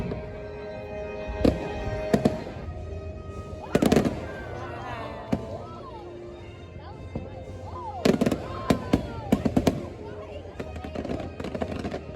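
Fireworks bursting at Disneyland on the Fourth of July: loud clustered booms and crackling pops come in several volleys, with quieter stretches between them and a crowd faintly audible underneath.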